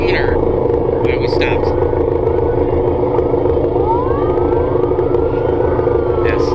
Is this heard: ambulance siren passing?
yes